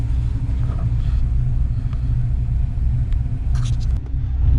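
A turbocharged Ford Mustang Foxbody drives along with a deep, continuous engine rumble heard from inside the car, steady and loud throughout the short stretch with faint rattles on top.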